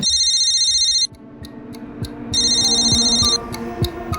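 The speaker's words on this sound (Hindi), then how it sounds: "सुबह रवि के पिता का फोन बजा" A telephone rings in bursts, two electronic trill rings separated by a pause, close and loud, with dull thumps in between.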